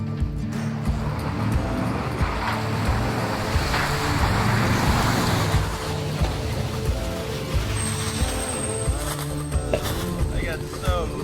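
A vehicle driving along a muddy trail strewn with wet leaves on an overland trip, with continuous rumbling engine and tire noise that stays close and steady, splashing and churning throughout, and voices faintly mixed in.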